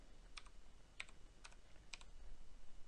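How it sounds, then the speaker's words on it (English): Four quick, crisp keystrokes tap on a computer keyboard, close and soft, over a quiet low hum. "go ahead and type in dock"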